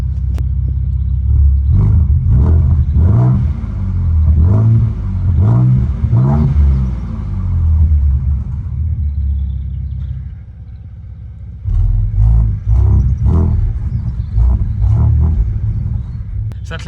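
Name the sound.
Ford Ranger Raptor exhaust in Baja mode, louder and deeper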